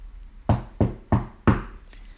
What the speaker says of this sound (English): Goldilocks walked to the house and knocked on the door.